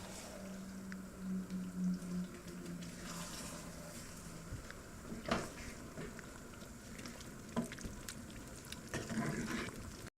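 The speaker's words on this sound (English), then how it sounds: "Stir it up." Venison in Marsala gravy being stirred in a pan makes a soft wet bubbling and squishing, with occasional scrapes of the spoon against the pan under a low steady simmer.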